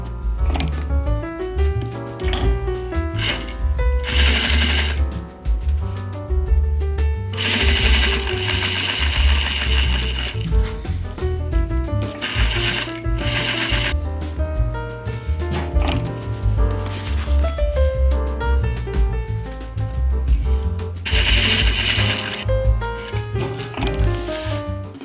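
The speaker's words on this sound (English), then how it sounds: "then I'm going to be sewing on this side" A sewing machine stitches a peaked lapel on a jacket, running continuously with a steady mechanical whir and rapid needle chatter that speeds and slows in stretches.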